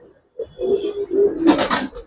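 A single male colour-breed pigeon coos close up, a short soft note followed by two drawn-out throaty coos and a rougher, breathy burst at the end, with no talking.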